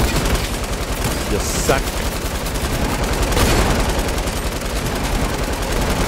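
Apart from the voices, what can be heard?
gunfire from snipers in the video game Fortnite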